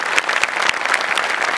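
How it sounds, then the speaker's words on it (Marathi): Loud, dense applause from a comedy show audience, steady rapid clapping close up with no talking. "जोरदार टाळ्या."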